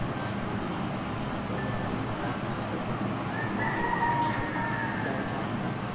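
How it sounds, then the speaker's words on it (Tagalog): A rooster crows at a distance over steady background noise, its drawn-out call rising and trailing off. "Yun talaga yung narinig ko, manok na."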